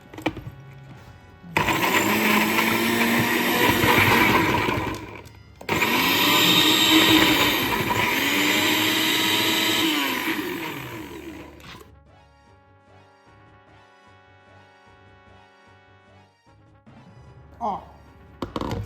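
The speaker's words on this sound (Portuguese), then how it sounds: "Pego o liquidificador." A blender whirs loudly in two long bursts while making homemade seasoning, with a brief pause between, then stops, leaving quieter clinking and handling noises.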